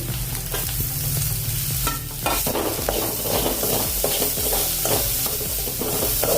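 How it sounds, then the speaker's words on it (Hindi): Ginger and green chili paste with onion fry in oil over crackling cumin seeds: a loud, continuous sizzle with steady stirring scrapes throughout, close to the pan and free of talk. "अभी इसमें डालेंगे अदरक और हरी मिर्च का पेस्ट। साथ में प्याज भी डाल देंगे।"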